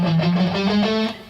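An electric rock guitar runs a quick chromatic sequence pattern, a steady stream of picked single notes with some wide left-hand skips, close and loud, with no talking.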